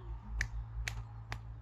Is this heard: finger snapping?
yes